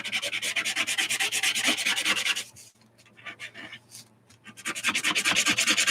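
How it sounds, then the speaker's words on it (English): Crayon is scraped off the edge of painted paper in fast, rhythmic rasping strokes, close and fairly loud, pausing briefly midway for a few scattered scratches before the rapid scraping resumes. "Let's scrape off the edge here."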